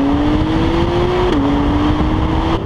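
Intake drone from a 2017 Acura NSX engine while driving, a steady loud tone rising slowly in pitch, dipping briefly at a gear change, then climbing again, heard from inside the car.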